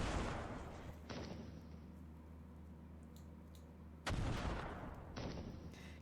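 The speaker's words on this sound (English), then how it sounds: "Looks like he's trying to go in for cannon shots." Cannon fire in the military simulation game Command: Modern Operations: two heavy booming bursts, each trailing into a long rumbling decay, at moderate loudness with no talking.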